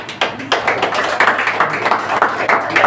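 Someone claps in a quick, uneven series of close, sharp hand claps, with a few people talking alongside.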